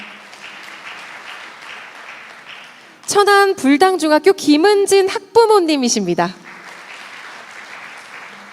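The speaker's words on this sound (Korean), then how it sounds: "뜨거운 박수로 함께 해주시면 좋겠습니다." Audience applause at a 45th Teachers' Day ceremony in Korea, a soft continuous patter that runs before and after a male announcer's voice, which briefly rises over it in the middle.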